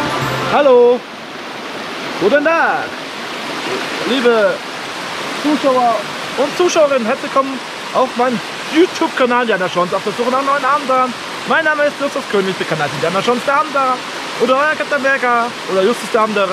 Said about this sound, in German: ist hier hinter mir der berühmte Rheinische Schweiz Wasserfall von Streitberg